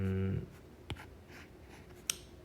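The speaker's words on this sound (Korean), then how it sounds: "좀 그려보겠습니다." Pen drawing on a board while sketching a mechanical valve diagram: after a brief hum cuts off, a few short, sharp scratchy strokes sound close by, separated by quiet gaps.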